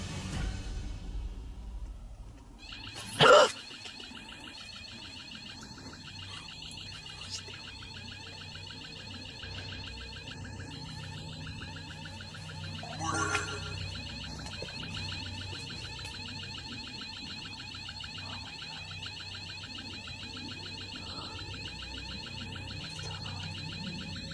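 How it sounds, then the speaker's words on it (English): An alarm set up a couple of meters from a tent rings out at night as a steady, continuous electronic tone, fairly close, with a sharp bang early on and a faint thump later beneath it. "That alarm is literally set up like a couple meters of our tent"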